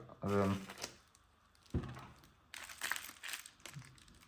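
Close crinkling and rustling of thin plastic in bursts, mixed with a brief voice and some handling noises.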